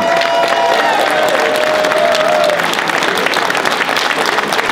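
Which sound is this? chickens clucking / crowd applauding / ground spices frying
crowd applauding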